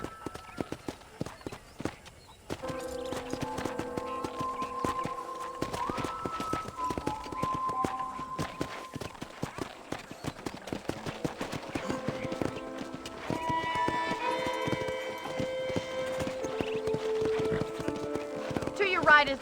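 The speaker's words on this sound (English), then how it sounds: "let's see if you can still ride a horse." Rhythmic hoofbeats of a galloping horse in the Red Dead Redemption video game run through the scene alongside spoken dialogue and a musical score, the clatter fairly steady at moderate volume.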